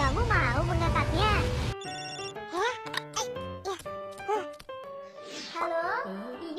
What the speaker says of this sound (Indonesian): Teleponnya berbunyi. Kamu mau mengangkatnya?